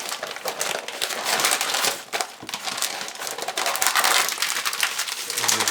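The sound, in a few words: meat being wrapped tightly in butcher paper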